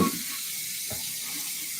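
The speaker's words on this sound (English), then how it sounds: "let me run it under hot water" Hot water runs from a kitchen tap over a stuck jar lid, a steady close splashing hiss with a faint knock partway through and no talking.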